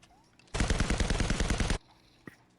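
A player's gun in a 2v2 competitive match fires one rapid automatic burst of about a dozen loud shots, followed after a pause by a single faint click.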